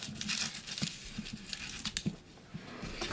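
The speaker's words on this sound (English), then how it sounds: "Just going to use my scissors there to cut that off." Scissors snip through stamped paper card for a painted panda valentine, making quiet crisp cuts and faint rustling in an irregular rhythm, close by with no talking.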